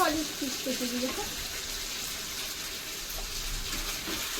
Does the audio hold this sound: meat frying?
yes